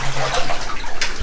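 Boots slosh and splash through deep, cold water in an abandoned Welsh mine, with loud, close churning over a brief second.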